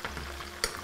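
Pieces of lamb frying in oil in a covered pan, giving a steady close sizzle with a sharp spatter pop near the end, no voices.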